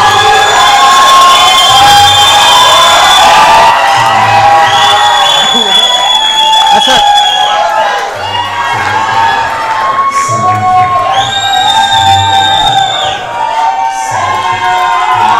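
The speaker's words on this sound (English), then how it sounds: "Big round of applause, guys." Crowd at a live band show in Dubai cheering, whooping and shouting loudly and continuously, with youthful high voices and some clapping, while music and an amplified voice run underneath.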